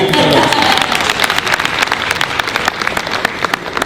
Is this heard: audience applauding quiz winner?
yes